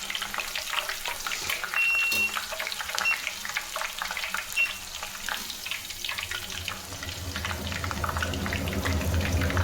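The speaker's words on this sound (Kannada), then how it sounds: "ಬೆಳ್ಳುಳ್ಳಿನ ಎಣ್ಣೆಯಲ್ಲಿ ಚೆನ್ನಾಗಿ ಫ್ರೈ ಮಾಡ್ಕೊಳ್ಳಿ" Garlic frying in hot oil in a home kitchen, a steady dense sizzle and crackle running throughout with faint scraping of stirring, close and fairly loud, no talk.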